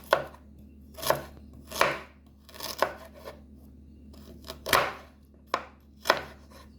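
Ginger being pounded for Jamaican curry turkey neck, heard as about nine sharp, separate thuds at an uneven pace, close and fairly loud, with no talking.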